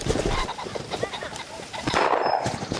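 A rooster pheasant flushes during a South Dakota hunt, giving harsh cackling calls amid rustling and movement, fairly faint and distant-sounding, with brief speech nearby.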